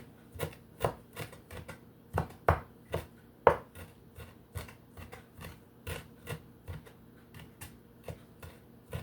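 A kitchen knife chops cucumber, tomato and onion on a cutting board for a salad, with sharp, fairly regular knocks in a steady rhythm, close and distinct, with no talking.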